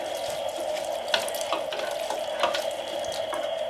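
Water pours steadily from a tap onto a hanging basket of Snow Queen pothos, a constant close splashing rush with small irregular spatters and no talking.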